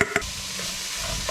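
Sizzling frying in a hot pan as white onion and poblano peppers go in, a couple of sharp clatters at the start, then a steady close, loud hiss with no talking.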